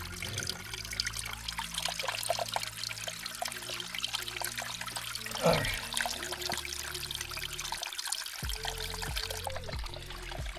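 Water trickles from a very small mountain water source into a container, a thin continuous dribble with a few splashes and a rising filling tone, close by, with a brief spoken word.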